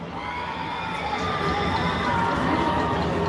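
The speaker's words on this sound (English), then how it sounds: "the Hornet student section is loud, cheering on these guys for a chance at a big stop" High school football student section cheering loudly in a steady, dense roar of shouts and yells from a nearby crowd, unbroken throughout.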